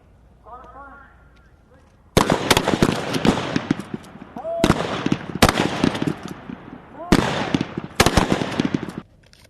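U.S. Army M4 carbine marksmanship training on a range: after a faint voice, several loud bursts of sharp rifle shots ring out in clustered volleys with short pauses between, echoing across the open range.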